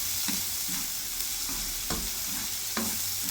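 Ginger sizzling in a pan while being stirred, a steady frying hiss broken by several soft scraping strokes of the spoon, close and continuous with no talking.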